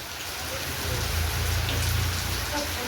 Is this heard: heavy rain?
yes